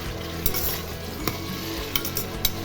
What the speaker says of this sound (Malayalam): കുറച്ച് ഉപ്പ് ഇട്ട് നല്ലോണം വരട്ടിയെടുക്കാം